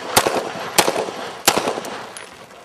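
Three sharp handgun shots ring out during a shooting drill, spaced about two-thirds of a second apart, loud and close, each followed by a short echoing tail.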